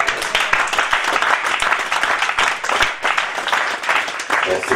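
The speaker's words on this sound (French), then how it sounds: "Applaudissez Jésus." A church congregation applauds during a sermon, sustained dense clapping from many hands at an even, lively level throughout.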